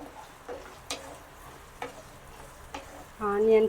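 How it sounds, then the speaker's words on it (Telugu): Onions fry in oil in a kadai with peanuts and chillies, a quiet sizzle broken by a few sharp stirring taps, and a voice speaks briefly at the end. "ఇదే బాండిలో కొద్దిగా ఆయిల్ వేసుకొని పల్లి మిర్చితో పాటు మనం ఆనియన్స్ కూడా వేయించుకోవాలి."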